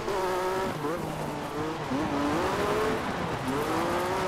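Rally car drifting in Colin McRae Dirt 2, a loud revving engine with wavering pitch and gritty tire squeal and skidding, close and continuous.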